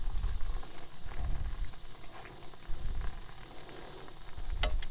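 Three rashers of bacon fry in a pan with butter and melted bacon fat, a steady close sizzle and crackle with intermittent spits and pops, heard alone.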